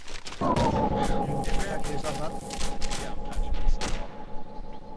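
A sharp opening shot followed by scattered gunfire and thumps in a military video game during a ShackTac operation, with a lingering ringing tone under the shots.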